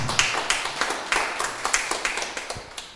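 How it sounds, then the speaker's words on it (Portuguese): Lively applause from a church congregation for one of its members: dense, fairly loud clapping with distinct sharp hand claps standing out, continuing steadily throughout without talk. "Um aplauso para ele."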